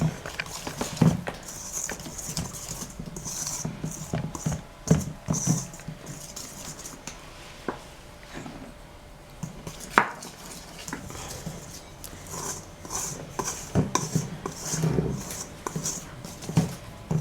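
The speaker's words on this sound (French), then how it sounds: "Ah oui, non mais d'abord je vais remuer un peu." Apple clafoutis batter is stirred in a bowl, producing irregular utensil taps and clicks against the bowl with soft wet patter throughout.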